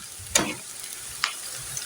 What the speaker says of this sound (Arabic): برضو هنقلب كله مع بعض